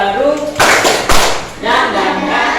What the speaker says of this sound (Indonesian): Kita lakukan tepuk semangat baru.